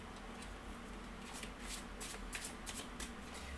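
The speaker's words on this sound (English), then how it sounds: "I will still give them a bit more of a shuffle while I'm contemplating what's coming." Witch's Tarot cards being shuffled by hand, a quiet, continuous riffle of soft card slaps and sliding with small rhythmic bursts, close and faint, no talking.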